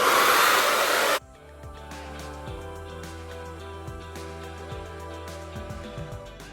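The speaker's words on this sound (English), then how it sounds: "I diffuse on high heat. I sit under the dryer on high heat" A hair dryer on high heat blows with a loud, broad rush for about a second, then cuts off, leaving quieter music.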